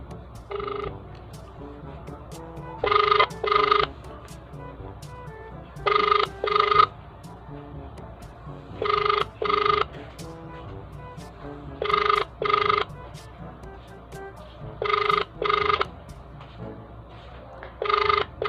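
A telephone rings in repeated double bursts, loud and close, over a steady low background hum as a prank call is placed; nobody answers during the clip.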